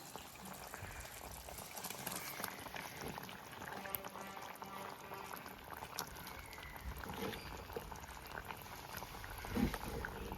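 Mango water boiling in a pot, a faint continuous bubbling and simmering heard from close by, steady throughout with a few small clinks.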